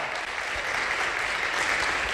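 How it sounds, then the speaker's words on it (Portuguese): Church congregation applauding together in a hall, a steady, dense wash of clapping that holds at full strength from start to end with no voices on top. "agradecer a Deus com um forte aplauso"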